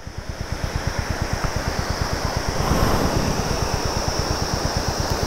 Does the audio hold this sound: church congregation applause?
no